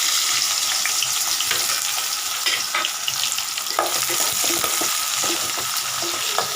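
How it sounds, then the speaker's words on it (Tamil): Sambar onions, sliced shallots, fry in hot oil until golden for egg gravy, giving a loud continuous crackling sizzle with occasional stirring scrapes and no talking. "அது நம்ம பொன்னிறமாக வறுத்துக்கலாம்."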